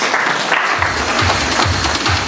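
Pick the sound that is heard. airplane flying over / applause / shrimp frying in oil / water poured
applause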